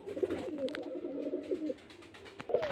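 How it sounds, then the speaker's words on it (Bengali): Pure native Giribaz pigeons from Murshidabad coo in a loft, a close, low rolling coo lasting over a second followed by a shorter coo, with faint background rustle and no talking. "সব মুর্শিদাবাদের পিওর দেশি গিরিবাজ পায়রা।"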